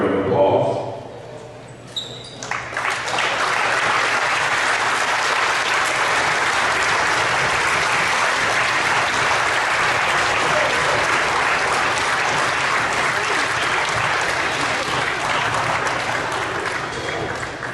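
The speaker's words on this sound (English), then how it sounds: "please stand so we can give you a round of applause." Gym crowd at a high school girls' varsity basketball game applauds veterans and service members, sustained loud clapping rising after a brief quiet start and holding steady, with some voices mixed in.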